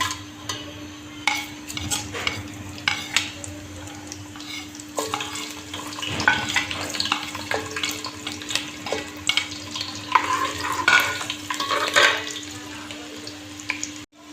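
Stirring and light sizzling of garam masala and garlic in hot oil, with scraping and clinks throughout, steady low kitchen hum beneath, no talking.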